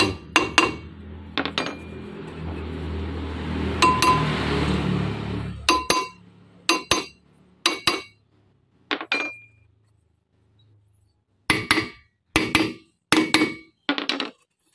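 A hammer knocks on the rear brake drum of a Nissan Livina, giving sharp metallic clinks in repeated bursts of three to five blows with pauses between, close and loud, over a steady background rumble during the first six seconds.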